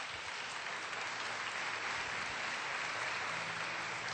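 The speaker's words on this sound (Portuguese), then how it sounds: "Vamos aplaudir o Evangelho" A Catholic church congregation applauds steadily after the Gospel reading, a dense, even wash of many hands clapping that holds through the whole moment with no voices rising above it.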